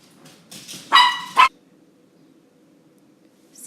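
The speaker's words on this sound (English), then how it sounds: "Sorry about the dog." Dogs bark indoors in a short, loud burst of two or three yaps with a yelp, close by, followed by quiet room tone.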